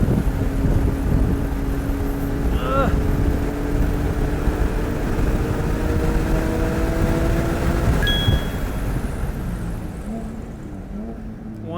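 Sports car lapping a race track near turn 16, a steady engine drone with rising pitch through the gears and a shift change late on, heard from inside over road and wind noise.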